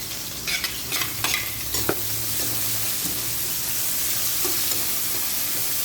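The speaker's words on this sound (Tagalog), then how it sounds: "igisa na natin yung ating bawang at sibuyas. Ayan. Isabay na natin yung ating pork para maluto-luto siya." Garlic, onion and pork sautéing in a pan, a steady close sizzle with several sharp scraping stirs of the utensil early on, then continuous frying hiss without talk.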